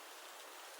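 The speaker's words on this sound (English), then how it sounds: "I just got scared because of some rain." Steady rain falling at night, a dense, even hiss of drops on surfaces with no talk, brief and consistent throughout.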